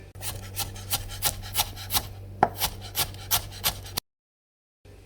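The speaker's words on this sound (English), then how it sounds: "And ginger, my personal favorite. Thinly slice it." Knife slicing fresh ginger thinly on a cutting board: about a dozen crisp, evenly paced chopping strokes in steady rhythm, close and clear, ending abruptly in silence.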